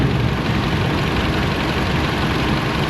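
A car engine idles steadily in a repair shop, a close, even, broadband rumble that carries on without a break for a few seconds with no one speaking.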